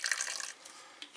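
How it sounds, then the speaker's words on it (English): A splash of apple cider vinegar poured over potato salad, a brief close liquid trickle that fades into quieter dribbles and a couple of small drips. "Just a splash, apple cider vinegar,"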